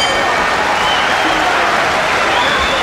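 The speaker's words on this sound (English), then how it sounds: "Listen to the crowd." Boxing arena crowd at a light-heavyweight title fight cheering and applauding, a dense, steady wash of clapping and roar with a commentator's voice faintly mixed in.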